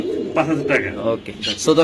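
Soft coos from a white Budapest pigeon recur in short bursts, close by, with a voice speaking over and between them.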